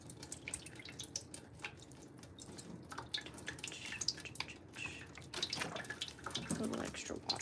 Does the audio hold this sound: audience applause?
no